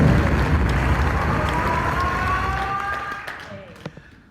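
A dense round of applause from the audience at a Philippine Military Academy Class of '71 golden jubilee dinner honours the anniversary chairman, steady for about three seconds before thinning out.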